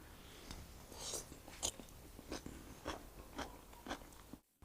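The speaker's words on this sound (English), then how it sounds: "it's crunchy. There's no unpleasant onion aftertaste." Crisp bites and crunchy chewing of marinated onion, made without vinegar, come through close and quiet as a series of distinct crackling crunches spaced through the chew, with no talk.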